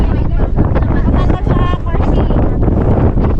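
Strong wind buffets a microphone outdoors in a rural province, loud gusty rumbling and crackling throughout, with a person talking over it.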